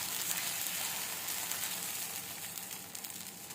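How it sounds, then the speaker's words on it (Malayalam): Dosa batter sizzles steadily on a hot griddle stone, a close, dense crackling hiss that holds even for the whole stretch with no voices over it. "ഇനി നമ്മൾ ദോശമാവ് കല്ലിലേക്ക് ഒഴിച്ചു കൊടുക്കാം"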